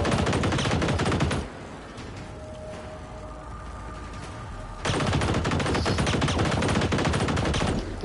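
Gunfire aimed at a Reaper robot in the video game Generation Zero: a dense, loud burst of rapid automatic shots, a quieter lull with mechanical hum, then another sustained volley of rapid fire.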